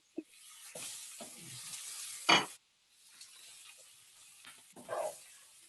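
Pre-cooked turkey bacon and Brussels sprouts sauté in a pan with bursts of close sizzling and spattering. One sharp, louder flare is followed by a short quiet gap before a softer hiss resumes.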